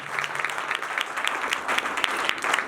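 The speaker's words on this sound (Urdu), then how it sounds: "زوردار تالیاں جائیں گے" A church congregation claps loudly and steadily, a dense crowd of hands applauding evenly throughout with no voices over it.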